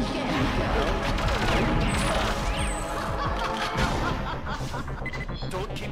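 Rocket launcher fire aimed at bodyguards in the Xbox Live Arcade version of Perfect Dark, heard as a loud, busy stretch of blasts and crashing gunfire layered over constant game music and effects.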